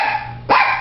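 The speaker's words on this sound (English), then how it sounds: "You guys got a dog in the house?" A dog in a house gives a single sharp, loud bark partway through, with quieter indoor sounds around it.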